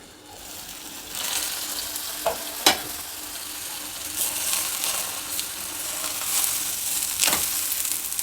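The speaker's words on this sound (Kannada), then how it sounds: "ಎರಡೂ ಸೈಡು ಎಣ್ಣೆ ಹಚ್ಚಿ ಬೇಯಿಸಿದ್ರೆ ತುಂಬ ಚೆನ್ನಾಗಿ ಗರಿ ಗರಿಯಾಗಿ ಬರುತ್ತೆ" Methi leaf talipeet cooks in oil on a pan with a steady, close sizzle and frying crackle throughout, broken by a few light scraping and stirring knocks.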